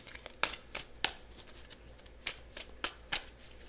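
Tarot cards shuffled by hand, a series of sharp riffling snaps at an uneven rhythm, close and fairly quiet with no talk.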